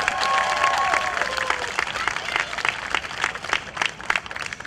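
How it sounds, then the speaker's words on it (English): An audience at a community youth singing showcase applauds warmly, a dense, steady wash of clapping that fills the room and tapers slightly toward the end. "Let's give them all a nice round of applause"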